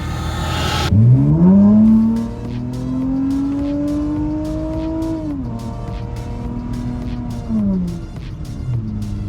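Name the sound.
car engine revving as VTEC kicks in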